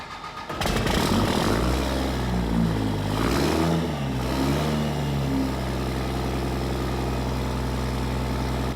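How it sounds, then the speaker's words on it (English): A second-generation Cummins diesel truck engine built to 800 horsepower cranks and fires up after a brief pause, revs loudly, then settles into a steady, heavy idle close by. "where it's really at with this truck is the startup"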